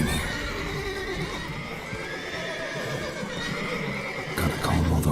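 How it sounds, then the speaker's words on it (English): Horses in the video game The Witcher 3: Wild Hunt whinny and neigh several times over a steady background, with a louder burst and hoof clip-clops near the end. "Gotta calm all the horses before they wake the guards."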